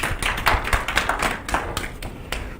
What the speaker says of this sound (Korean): 발표 잘 해주신 변호사님께 다시 한번 박수 부탁드리겠습니다